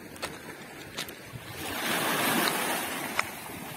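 Sea waves wash onto the shore on a cool September day, a soft rushing surge that swells and fades, heard fairly close along with wind buffeting the microphone and a few faint knocks.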